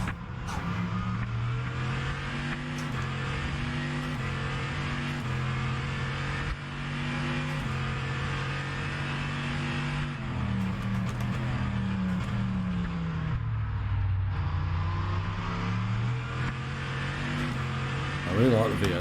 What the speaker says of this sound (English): I really like the V8 sound in this.